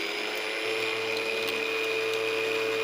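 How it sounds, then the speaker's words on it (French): An electric food chopper whirs steadily as it mixes plant fibres, a constant motor hum with a high whine that runs unbroken and moderately quiet throughout. "On va remettre ce qui nous reste dans notre hachoir et on va encore mixer."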